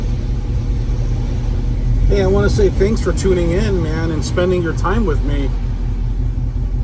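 A 1967 Chevrolet Camaro with a 396 engine rumbles at a steady, deep idle throughout, while someone talks over it for a few seconds in the middle.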